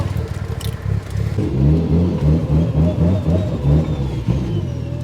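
A budget-build Subaru WRX STI engine revs steadily while warming up, giving a loud, close, throbbing drone with rhythmic pulses that holds for several seconds.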